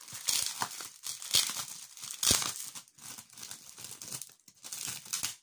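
Paper crinkles and rustles in a series of crisp, close bursts as a pad is handled, with brief pauses between movements.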